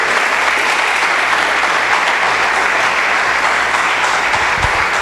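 A church congregation claps in praise, a steady, thick wash of applause from many hands filling the room, with a faint low hum underneath.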